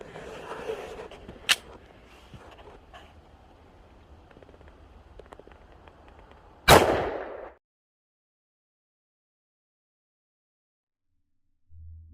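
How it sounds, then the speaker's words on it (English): A .40 caliber S&W M&P pistol fires a single hand-loaded Nosler jacketed hollow point round during a gel test. One sharp, loud report rises out of low background noise, decays briefly, and then gives way to near silence. "This is a hand-loaded Nosler, jacketed hollow point."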